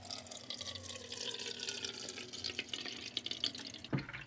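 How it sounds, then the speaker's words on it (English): Tap water poured down the inside wall of a Brita filter jug, a soft continuous trickle and splash, quiet and close, with a slight bump near the end. "I'm going to go ahead and pour it in where it goes down the side"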